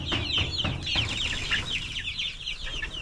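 Young male Darag native chickens, about five months old, clucking and calling together in a close flock, with a steady mix of overlapping chirps and clucks throughout.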